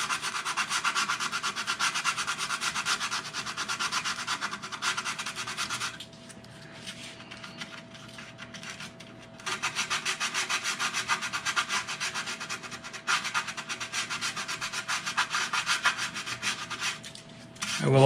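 Hand sanding of wooden guitar side braces with 120 grit sandpaper, a close, continuous scratchy rubbing in long strokes that briefly softens midway before resuming, with a faint steady hum underneath.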